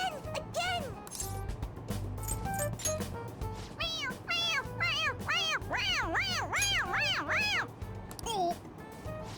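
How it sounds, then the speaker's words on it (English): A toy cat in Persona 5 Royal meowing when its head is pressed, repeated short meows that grow quicker and more frequent, over game music and voices. "It meows when you press on its head."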